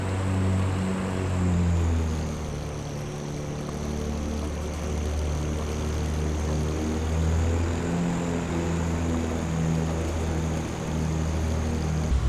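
Small propeller aircraft engine in Microsoft Flight Simulator 2024, a loud, steady droning hum with a constant throbbing tone, heard from the cockpit on descent with the RPM pulled back.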